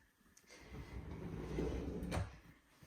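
A drawer in a craft studio cabinet slides open with a rising scrape, then stops with a sharp knock, close and fairly quiet with no voices.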